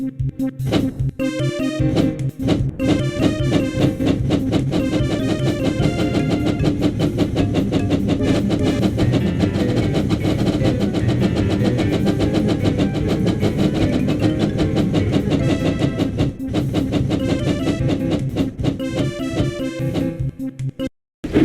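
Percy the little green engine racing fast in the Thomas & Friends: Hero of the Rails Wii game, a loud continuous rhythmic chugging with rail clatter and a bright musical score, dipping briefly near the end.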